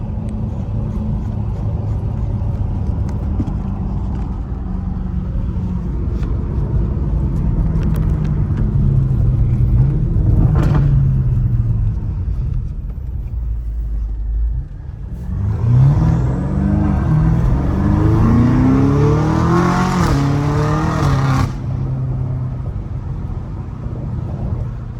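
A straight-piped 650 hp BMW M5 Competition, heard from inside as a low engine drone that rises under acceleration, dips at a gear shift near the middle, then climbs again in a loud throaty pull before settling.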